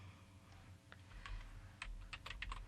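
Quiet computer keyboard typing at a desk while entering a font name, a short burst of light, irregular key clicks over faint background hum.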